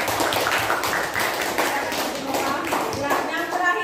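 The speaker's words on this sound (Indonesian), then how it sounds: "tepuk tangan untuk kelompok Ketambe." Classroom applause for a student group, a fairly close patter of many hands clapping unevenly with some tapping, and voices mixed in beneath.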